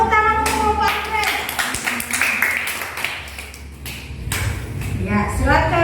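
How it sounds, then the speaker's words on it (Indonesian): Clapping for a small student discussion group named Anggrek in a classroom, a few hands patting unevenly at close range alongside continuous chatter and talking. "Tepuk tangan untuk kelompok anggrek"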